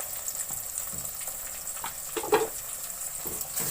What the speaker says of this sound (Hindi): अब इसको मिक्स करके मैं थोड़ी देर भून लूंगी